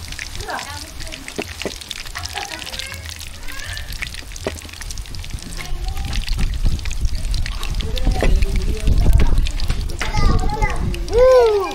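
Heavy rain in a sudden downpour pours steadily with a broad rushing wash that swells louder toward the end, while voices talk over it.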